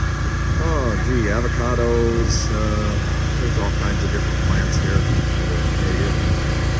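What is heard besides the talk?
generator running outdoors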